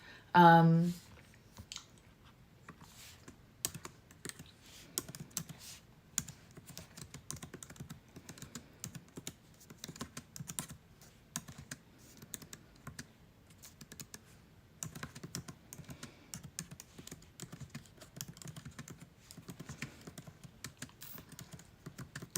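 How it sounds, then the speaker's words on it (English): Fingers tap away at a computer keyboard in uneven bursts of clicks, close and fairly quiet, with short pauses between runs and occasional faint speech in the background. "y'all have to just stare at me typing"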